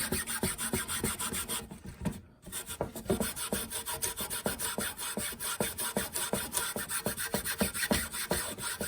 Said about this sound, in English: you're gonna sand every layer with some fine sanding sponge in between